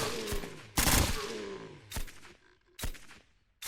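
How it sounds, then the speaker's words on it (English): Strange, harsh gunfire in the survival shooter SurrounDead: four loud cracking bursts at uneven intervals, the second a longer rolling volley that decays slowly, with quiet gaps between shots. "That's a weird sounding gun."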